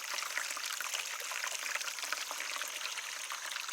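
Water trickles steadily over the edge of a test waterfall built for a pond, a soft, continuous hiss of falling water with no voices.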